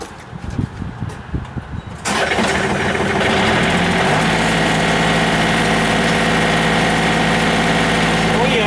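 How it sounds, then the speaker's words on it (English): A tractor engine cranks with choppy bursts, catches, and settles into a loud steady rumble that builds as it revs, close by, with no talk over it. "let's fire the tractor up and rev her up a bit"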